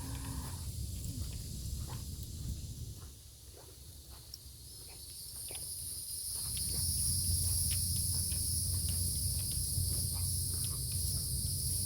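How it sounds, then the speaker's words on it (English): Loud, continuous high-pitched cicada buzzing fills a Florida forest, steady and droning, with occasional footsteps and rustling nearby. "You can hear the cicadas, which is nice."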